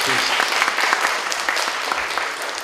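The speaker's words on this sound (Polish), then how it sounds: "Ja myślę, że należą się naszym maluszkom naprawdę gromkie brawa." Loud applause from an audience honoring small preschool children at an Easter-bunny themed contest, steady dense clapping filling the whole moment without pause.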